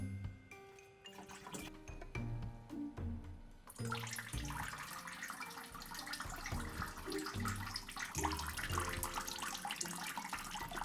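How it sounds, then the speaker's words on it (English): Water flows steadily from a small pump into a handmade moss terrarium, a continuous trickling and splashing wash that starts faintly and grows louder after a few seconds, then runs on with no one speaking. "All works correctly, water flow is constant"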